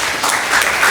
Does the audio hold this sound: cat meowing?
no